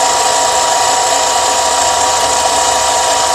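A metal lathe cutting, a steady loud high-pitched whirring and grinding that holds unchanged from start to finish with no voices.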